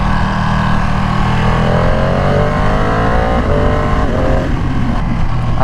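A rare Ducati motorcycle engine revs and accelerates loudly and close up, its pitch climbing steadily through the gears with quick shifts, a continuous roar dominating throughout.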